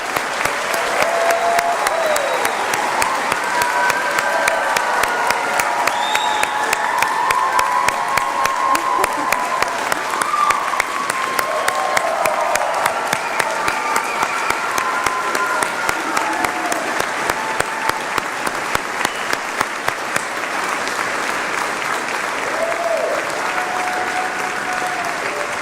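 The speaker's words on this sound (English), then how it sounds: "Can we give one big round of applause for the class of 2023?" Sustained, loud applause from a large convocation audience for the class of 2023 graduating from the University of Illinois College of Medicine Peoria, dense clapping filling the hall steadily throughout.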